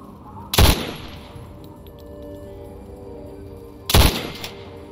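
Two loud, sharp 10mm pistol shots from the video game Fallout 3 crack out about three seconds apart, each close and punchy with a brief echoing tail, over a quiet ambient hum.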